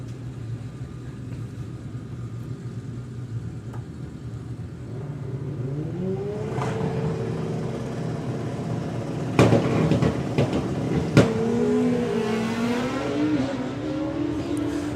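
Drag racing cars launch and scream down the strip at a festival, engine pitch climbing steadily with a brief lift off the throttle before roaring back on, heard from a distance under crowd-like ambience.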